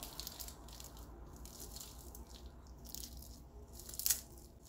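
Crispy KFC-style fried chicken is bitten and chewed in a run of faint, close crunches, with one sharper crackle near the end and no talking.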